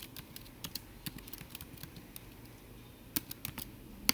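Quick, light keystrokes on a computer keyboard as a name, password and class code are entered, irregular clicks in short bursts with pauses, close and fairly quiet with no talking.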